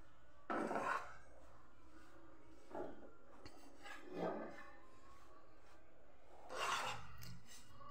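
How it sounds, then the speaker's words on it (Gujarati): Rice flour is roasted in a pan over very low gas, with a spoon scraping and rubbing against the pan in several separate strokes between quiet stretches. "સાવ ધીમો ગેસ રાખીને આપણે બસ આ બધું મિક્સ થઈ જાય અને ધીમે ધીમે બધું આપણે શેકી લેવાનું."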